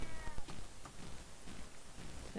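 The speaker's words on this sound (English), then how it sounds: "Oh, there's my cat." A house cat meows faintly a few times against a hissy, quiet room background, with no one talking.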